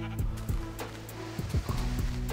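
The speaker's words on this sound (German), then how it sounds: "Jetzt haben wir hier jede Menge rote Schafe," Sheep in the Minecraft video game bleat in overlapping short calls over a steady humming game background, with several bleats close together.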